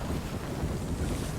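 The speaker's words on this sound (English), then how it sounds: "This is what your ship sounds like right before it sinks." Creaking, water-heavy ambience of a ship about to sink in the video game Sea of Thieves: a continuous low rushing and sloshing wash with wind-like noise, steady and fairly loud throughout.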